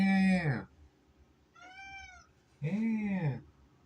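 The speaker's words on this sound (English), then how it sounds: "My cat's coming." A house cat meows up close, three distinct calls with pauses between them, the first and last loud and drawn out, the middle one softer and higher, over a quiet room.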